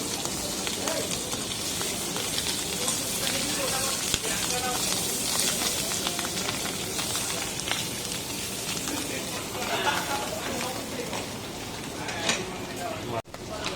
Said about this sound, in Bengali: আমরা একটা মাশরুমটা একটু ভেজে নিব